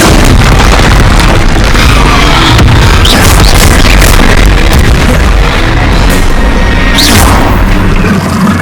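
Confringo spell blasts in Hogwarts Legacy on PS5 make a dense, relentless roar of booming explosions with no letup, loud and close throughout.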